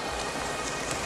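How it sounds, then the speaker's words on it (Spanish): Steady rain falling in a film scene, a dense, even hiss of drops on a surface with no pauses and no talking. "Veo que lloverá."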